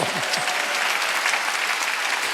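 A church congregation at a Wednesday worship service bursts into dense, loud applause that fills the room, steady and continuous throughout, with no voice over it.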